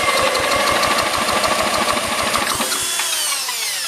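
A 1960s–70s John Deere push mower engine turns over in a rapid, steady knocking rhythm, loud and close, then cuts off partway through, leaving a fading ring and quiet.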